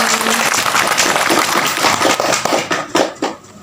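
A few people in a small podcast studio clap together after finishing a game, close and fairly loud hand claps that thin out toward the end into several separate, distinct claps.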